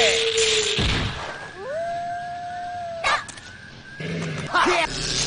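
A dog howls and barks in Samurai Shodown V Special, a long rising-and-falling howl followed by sharp yips and whimpers, loud and close over a busy game soundtrack.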